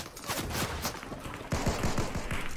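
Bursts of video game gunfire crackle in rapid volleys, a dense fusillade that grows louder and sharper partway through, with distinct close shots in quick succession.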